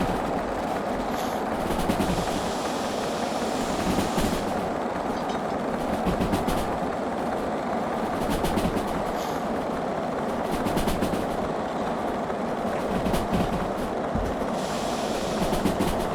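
Heavy train rolling on rails in the game Derail Valley, a steady continuous rumble with faint rhythmic clatter, loud and unbroken for the whole stretch, with no talk.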